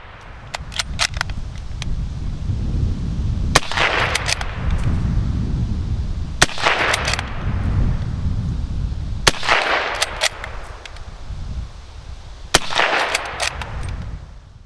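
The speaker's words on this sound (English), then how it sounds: "After the first 4 rounds, the cutoff was opened and magazine fire commenced." A Mk I Lee-Metford bolt-action rifle fires five sharp, loud shots at roughly three-second intervals in magazine fire, each report followed by the metallic clatter of the bolt being worked, all over a steady low outdoor rumble.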